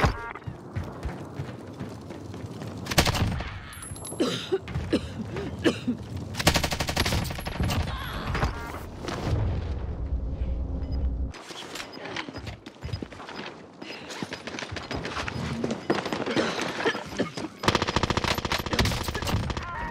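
Dense, loud automatic gunfire fills an online match of Call of Duty Warzone on Alcatraz, with rapid bursts, single shots and mechanical clatter that carry on almost without a break.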